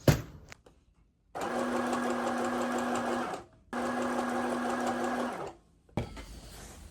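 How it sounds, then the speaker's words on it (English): Sewing machine stitching boning channels on a corset vest, two long, loud, even runs of rapid mechanical whirring separated by a short pause, with bumps of handling at the start and end. "the next step would be sewing boning channels at the front"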